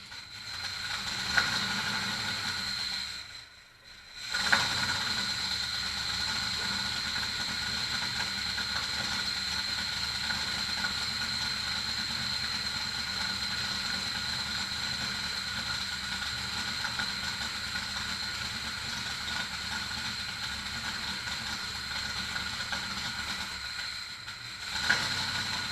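A Cobra car engine with EFI at its first startup, running poorly with a steady loud drone that drops out once briefly near the start, with no talk over it.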